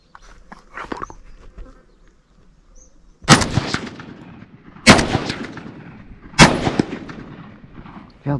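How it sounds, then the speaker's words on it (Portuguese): Three loud, booming hunting rifle shots ring out a second or so apart during a driven hunt, each with a rolling echo, after some quieter rustling. "Acertei um tiro."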